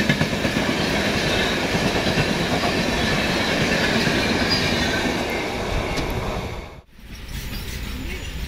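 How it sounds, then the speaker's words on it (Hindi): The Pune–Ahmedabad Duronto Express passing at high speed beside another train in India, a loud continuous roar and rattle of wheels and wagons that cuts off abruptly near the end, then settles into a quieter rumble. "दूसरे साइड से हमें अहमदाबाद की तरफ जाने वाली पुणे अहमदाबाद दुरंतो एक्सप्रेस"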